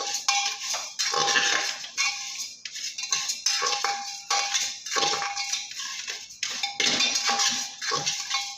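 Dry rice grains scrape and rattle against a metal pan as they are roasted for puffed rice, in repeated bursts of gritty clatter, close by.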